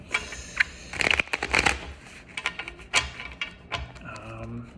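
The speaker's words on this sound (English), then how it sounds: "I've been shuffling for a little bit" Tarot cards being shuffled in quick riffles and taps, close and crisp, in bursts with short pauses, no one speaking.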